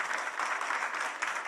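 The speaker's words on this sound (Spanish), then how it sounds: "Dale un aplauso al Rey de Reyes" A church congregation claps together in a steady, dense wash of applause that stays even and fairly close, with no voices standing out.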